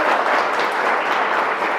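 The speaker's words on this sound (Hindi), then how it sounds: "एक जबरदस्त ताली हो जाए।" Audience applause at a goat farming seminar: a dense, steady burst of clapping from a crowd that fills the whole short stretch at an even, fairly loud level.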